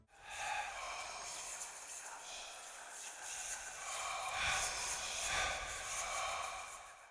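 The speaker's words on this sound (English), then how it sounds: "This is the same sound you can hear while standing near a lore tablet" Eerie breathy whispering near a lore tablet in the video game Hollow Knight, a continuous airy hiss of murmuring voices that swells and fades softly, heard alone without clear speech.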